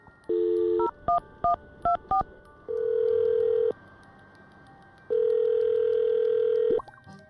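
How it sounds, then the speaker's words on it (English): A phone line tone, then a quick run of touch-tone beeps as a number is keyed in, followed by long steady ringback tones. "I'm going to dial his phone number right now."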